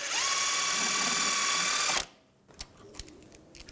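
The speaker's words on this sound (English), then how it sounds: "Use a 24mm socket, take the jam nut off." A 24mm socket on a power tool spins off the inner tie rod jam nut of a 2006-2010 BMW 550i, with a loud steady whirr for two seconds that cuts off abruptly, followed by a few faint clicks and knocks.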